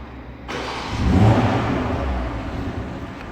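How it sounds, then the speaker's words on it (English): A 2021 BMW M440i Coupe fires up by remote start: a sharp starter catch followed by a loud rising rev that settles into a steady idle, heard up close and alone. "And that's how you remote engine start your car."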